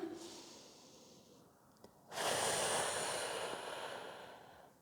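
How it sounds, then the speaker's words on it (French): A person breathes out during a toning workout, a long, strong, close exhale that follows a brief quieter inhale and fades gradually. "Et on va souffler, basculer sur le côté."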